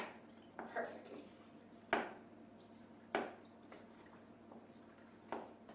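A wooden spoon slowly stirs a chorizo pasta bake in a pot, with a few soft, separate knocks and scrapes against the pot in a quiet room.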